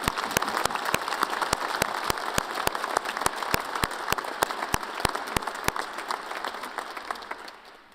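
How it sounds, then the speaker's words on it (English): Sustained applause from a large commencement audience at Weber State University's spring 2018 graduation, a dense steady wash of many hands with a few sharp individual claps standing out, fading near the end. "Let's give these wonderful professors another round of applause."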